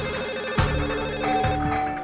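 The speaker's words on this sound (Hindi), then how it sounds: "तब तक फोन की घंटी बजने लगी" A telephone rings with an electronic warbling tone, repeating in short bursts over a low hum in a courtroom-drama scene.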